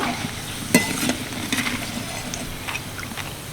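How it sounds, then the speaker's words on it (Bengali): Steady sizzling of peanuts frying in hot oil, with a few sharp stirring clicks and scrapes against the pan. "কিছুটা বাদাম আর একটু কারি পাতা ভেজে নিন"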